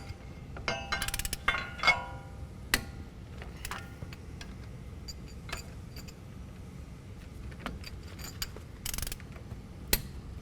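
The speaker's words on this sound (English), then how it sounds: "Now we're going to attach the CV axle and torque these down to 40 pound-feet of torque." A breaker bar and wrench ratchet as CV axle bolts are torqued down on a 2017 Silverado 2500 HD, with sharp ticking clicks and metallic clinks over faint background noise.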